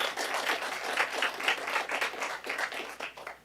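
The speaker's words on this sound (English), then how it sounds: "So let's give Camille a round of applause." Steady applause from people at a city council meeting for Camille, a volunteer being honored, with dense overlapping claps that hold for a few seconds before thinning out.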